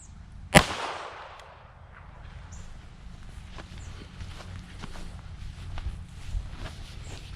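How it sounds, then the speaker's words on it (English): A single sharp .22 rifle shot fired into soft body armour at an outdoor range cracks once near the start, loud and close, followed by quiet ambient noise with faint scattered sounds. "Be shooting a 22."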